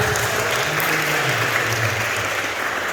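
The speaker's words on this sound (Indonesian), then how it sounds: "Tepuk tangan yang meriah." Audience at a school sports event in East Java applauding, a dense, steady wash of clapping that holds at full level for the whole three seconds with a faint crowd murmur underneath.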